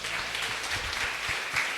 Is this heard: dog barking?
no